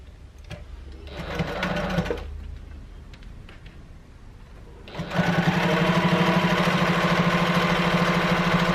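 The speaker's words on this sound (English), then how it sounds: "I'm going to open up these seams and I'm just going to top stitch down each side so that seam is nice and flat" An electric sewing machine top stitching down both sides of an opened seam on a tote bag, running in a short burst, pausing, then humming steadily and loudly for several seconds, with no talking.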